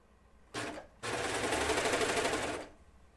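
An overlocker sewing machine runs slowly. There is a short burst, a brief pause, then a steady mechanical whirring for about a second and a half, close and moderately loud, with no talk.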